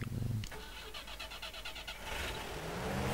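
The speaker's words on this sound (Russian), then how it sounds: "завести автомобиль." A UAZ-469B engine starts up in the SpinTires off-road game: a brief cranking burst, then a rising engine note that settles into a steady, fairly loud run.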